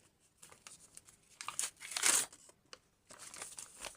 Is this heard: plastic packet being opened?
yes